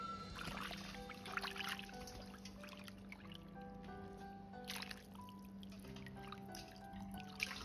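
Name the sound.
rinsing wood ear mushrooms in water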